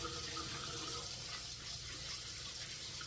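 Tap water runs steadily into a sink while items are rinsed clean, making a continuous soft hiss and splash with no pauses and no talking.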